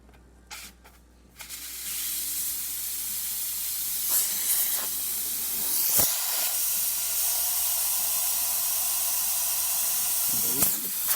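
The steam wand of a Quick Mill espresso machine blasts a loud, continuous hiss that runs for about nine seconds. Brief clatters cut into it, along with a few short bursts where the pitch shifts. A few knocks come before the steaming starts.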